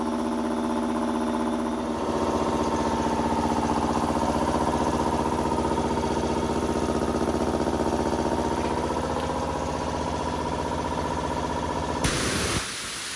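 An air compressor motor runs steadily during a home injector spray-pattern test on a KE-Jetronic fuel system. It gives a loud, constant mechanical drone with a tonal hum and cuts off abruptly near the end.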